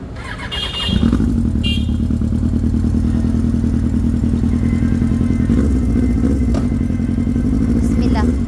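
A Yamaha R1 motorcycle engine fires up after carburetor repair, catching in about a second and settling into a loud, close, steady idle with a fast rhythmic putter and occasional faint squeals over it.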